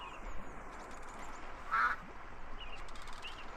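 Ducklings in the Udon Bird Sanctuary of the VR Chat game quack over a dense, noisy background, with a clearer call standing out near the middle.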